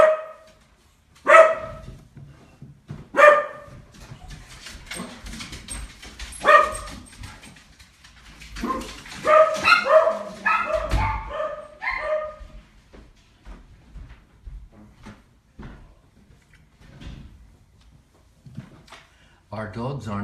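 Several pet dogs bark at home in sharp, loud bursts, a few spaced-out single barks followed by a rapid cluster of yips and barks, then quieter scattered sounds, with a voice speaking in between.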